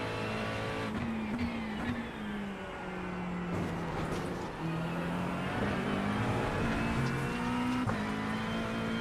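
A GT3 race car engine at Oulton Park in iRacing holds a steady, loud drone, its pitch rising and dropping through gear changes and corners, with occasional brief tire noise.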